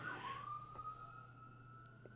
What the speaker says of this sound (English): That was actually an ambulance, dude.